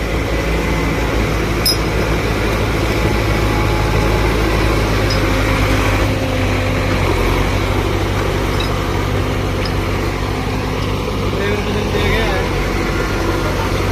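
A tractor engine labors to pull through deep mud while several tractors work together, producing a steady, loud, low rumbling drone throughout with people talking over it.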